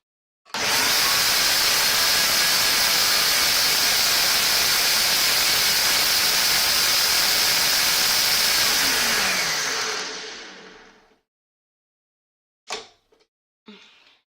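A loud, steady blender roar while blending a green drink runs for about ten seconds, then winds down and stops, leaving a few brief knocks afterward.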